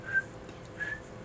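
A person whistling two short, thin notes, each a brief steady tone with a pause between, faint and close, with no talk.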